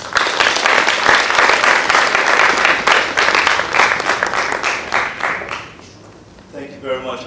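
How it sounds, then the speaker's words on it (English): An audience at a Singapore talk about Kandahar Street applauds loudly, the dense clapping running for about six seconds and then fading out before someone begins to speak. "And applause."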